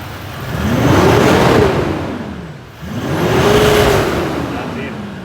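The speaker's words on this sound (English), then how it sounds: "we're going to give it a rev" A Toyota 200 series with a Manta exhaust revs twice close up, each rev rising in pitch, holding and falling back, with a short dip between the two pulls.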